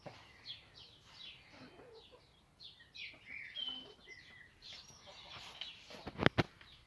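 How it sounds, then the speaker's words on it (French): Soft honks and chirps of ducklings and geese call back and forth outdoors in a garden, with a couple of sharp clacks near the end. "Il y a les canettes qui sont contre Geneviève"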